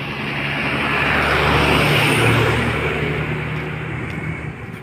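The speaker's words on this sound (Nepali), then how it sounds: "गाडी आयो" On a road in Nawalpur, a motor vehicle draws close, swelling to a loud broad roar at its nearest and then fading as it passes, with no talk.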